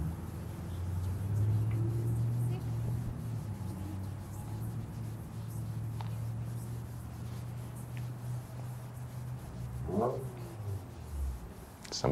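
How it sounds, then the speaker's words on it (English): A car or motorcycle passes nearby outdoors, a steady low engine rumble lasting most of the span before fading, with a brief sharper rising whine near the end. "Somebody made noise with a motorcycle or a car"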